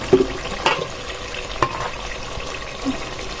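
Sacrificial Korbani meat being sautéed with ginger and spices in a pot for khichuri: a steady low sizzle broken by a few sharp clinks and scrapes of stirring.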